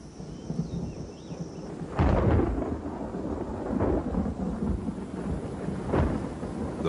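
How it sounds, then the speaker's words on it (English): A thunderstorm rolls over with steady rain hiss and several deep thunder cracks and rumbles at roughly two-second intervals, loud and close, with no voices. "he will wait out the storm."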